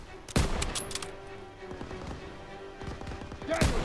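Bursts of machine gun fire in a World War II shooter game, a few sharp loud volleys separated by quieter rattling and battlefield rumble.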